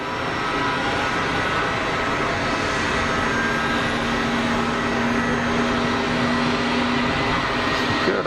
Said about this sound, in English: Iberia 320 Neo rolling.